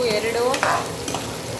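Ginger garlic paste, three ladlefuls, frying and being stirred in a pan, with soft sizzling and scraping strokes of a ladle close by and no talk over it.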